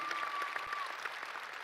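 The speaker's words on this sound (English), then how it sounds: "give yourselves a round of applause" Basketball fans in an arena applauding in a brief, moderately distant burst of crowd clapping, with a thin sustained tone running through it.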